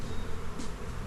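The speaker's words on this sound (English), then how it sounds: "There's a trap right there, and we do have some bees checking it out" Honeybees buzz around a swarm trap outdoors, a short continuous drone of wings close by with no voices.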